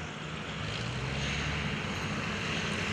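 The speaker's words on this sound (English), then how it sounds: "And here's another RV-8." An RV-8 light aircraft from Team RV flies past at the 2011 Greenwood Lake Airshow, its propeller engine giving a steady, loud drone that holds through the whole moment.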